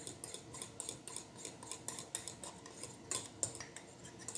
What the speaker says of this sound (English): I'm going to stir it